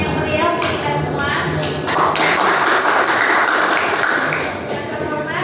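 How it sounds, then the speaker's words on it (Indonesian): Applause from a seminar audience, a dense burst of many hands clapping that stays steady for several seconds and then eases off slightly near the end, with no talk over it. "Tepuk tangan yang meriah untuk kita semua."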